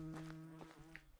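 A bee buzzing briefly as it flies past in the medieval farming video game Medieval Dynasty, a faint, short insect drone.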